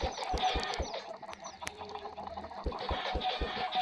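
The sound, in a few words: chickens clucking on Minecraft animal farm, from video game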